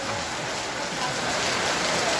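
Heavy rain pours down in a dense, steady broadband roar, close and constant throughout.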